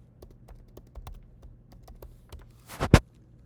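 Keys tapped on a computer keyboard while entering a unit of measurement, a steady run of light clicks followed by a louder burst of quick strokes near the end, close and alone.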